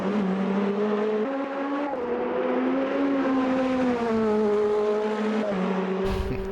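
A Nissan race car engine in the racing sim Automobilista 2 drones loud and close, its pitch rising and dipping through gear changes, with a brief tire squeal near the end.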